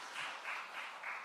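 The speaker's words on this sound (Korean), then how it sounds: "신흥 식구들 왔어요. 우리 박수해 줄까요?" Church congregation clapping to welcome new members during a Sunday morning service, a short faint round of applause with soft rhythmic pulses.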